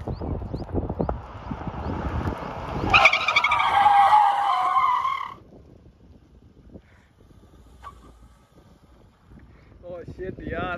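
A Mahindra XUV500 drifts on a road, its tyres letting out a loud screeching skid for a couple of seconds amid engine noise, then fading; voices are heard around it.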